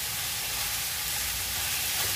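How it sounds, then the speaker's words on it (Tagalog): Chinese cabbage and chicken stir-frying in a pan for chop suey, a loud, continuous sizzle with a steady hiss throughout. "parang prito-pritohin natin ng konti para mas malinam-nam naman"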